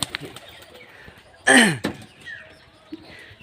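A short burst of wing flaps rises suddenly after a quiet stretch, a pigeon taking off close by as it is released, followed by soft background noise.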